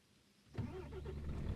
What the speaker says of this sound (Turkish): Aracımızı çalıştıralım.